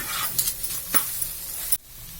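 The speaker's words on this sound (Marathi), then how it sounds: "बटाट्याला आपण छान मिक्स करून घेऊया." Mashed potato mixed with salt in a pan for Bombay pav bhaji, with a soft continuous sizzle and a few spoon scrapes against the pan before it cuts off abruptly near the end. No voices.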